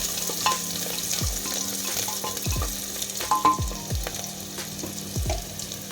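Bay leaves and onion sizzling in hot oil in a pan for pulao, a steady crackle broken by several sharp scraping strokes as a spoon stirs them.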